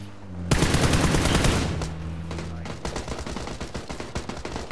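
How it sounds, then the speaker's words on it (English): Rapid automatic gunfire in the video game PUBG, a loud sustained burst followed by lighter repeated shots, up close, with some talk faintly beneath. "Watch out, they're shooting up four."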